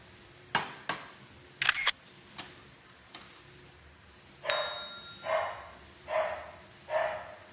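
Dog barking outdoors at a distance, a few scattered yaps followed by a run of four evenly spaced barks, faint against a quiet background with some small clicks.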